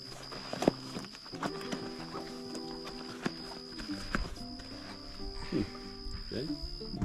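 Draft horses shift and stamp while being harnessed, with scattered hoof clops and knocks close by, under people talking nearby.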